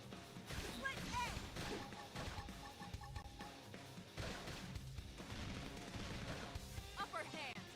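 Bursts of gunfire and impacts in a busy, dense Xenoblade Chronicles X Definitive Edition game soundscape, with sharp pops scattered throughout over a constant mix of music and effects.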